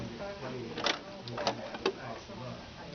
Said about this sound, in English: I'm just going to sew a piece on